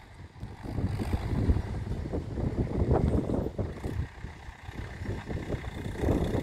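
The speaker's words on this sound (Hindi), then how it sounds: "ट्रैक्टर का पिकअप भी बहुत बढ़िया है, आवाज़ तो शानदार है इसकी" Mahindra 575 DI tractor engine working a harrow through a wet, heavy-soiled field, a steady low diesel rumble with pulsing load, continuous and fairly close throughout.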